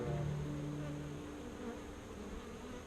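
Honey bees buzz steadily around an opened Flow Hive, a close, continuous hum with a few individual bees droning nearer at times, and no voices.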